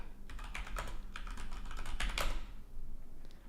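Rapid keystrokes on a computer keyboard at a terminal, a steady burst of close clicks and clatter running through most of the stretch before tapering off.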